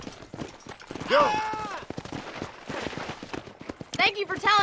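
Hooves of a galloping horse in Red Dead Redemption thud in quick rhythm beneath game dialogue, with a sharp horse whinny and scattered gunfire-like cracks breaking through.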